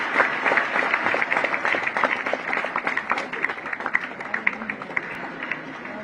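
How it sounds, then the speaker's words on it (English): Sustained applause from an audience at a live tenth-anniversary celebration event, a dense, steady patter of many hands clapping close by with no talk over it. "Let's keep the applause going."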